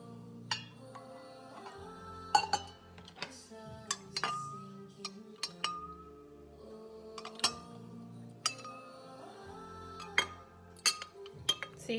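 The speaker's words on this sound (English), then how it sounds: "so I'm literally gonna add the milk" Milk being added to two cups of cafetière coffee, heard as scattered clinks and taps of cups and spoons at close range over a low background hum, with no talking.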